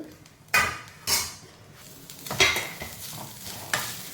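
A utensil scrapes and stirs grated coconut in a pan for roasting, in several distinct strokes, with a light sizzle and metallic clinks between them.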